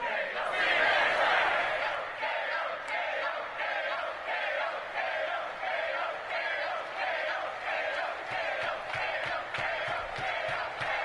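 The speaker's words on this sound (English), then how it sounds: "the crowd is ready for action" A roaring stadium crowd in the Madden 21 football game, with a dense, continuous wash of cheering and shouting that swells at the start and holds steady with rhythmic chanting pulses throughout.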